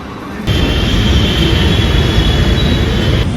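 A metro train passes close by in a city, a steady loud rumble of wheels on rail with a faint squeal, starting abruptly and holding for about three seconds.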